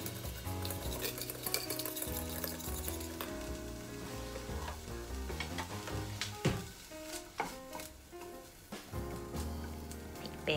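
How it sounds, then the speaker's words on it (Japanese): Bacon fries in rice oil until crispy, a faint steady sizzle with occasional stirring taps, mostly buried under background music. "ベーコンはカリカリになるまで炒めてください"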